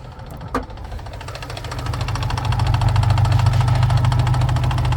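A 2011 GMC Terrain engine runs close by, a steady mechanical drone with a fast, even tapping tick from the valve lifters layered over it, growing louder after a brief click at the start.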